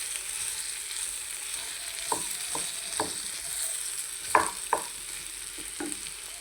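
Potatoes frying in a pan, a faint steady sizzle punctuated by several sharp scraping clicks as a utensil stirs them, heard close with no talking.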